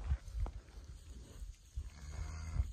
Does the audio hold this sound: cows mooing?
yes